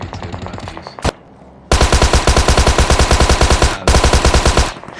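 Automatic gunfire in the PUBG Mobile video game: a short burst, then a long run of rapid, evenly spaced loud shots with a brief break before another sustained volley, no talking.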